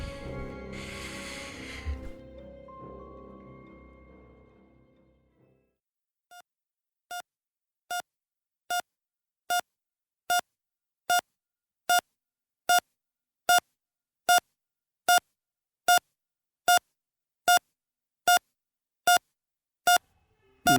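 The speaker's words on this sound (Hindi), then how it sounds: "मेरे आसपास जैसे सैकड़ों बीप की आवाज गूंज रही थी" Echoing electronic beeps repeat at an even, steady pulse, growing gradually louder one after another after a muffled, murky opening stretch that falls quiet.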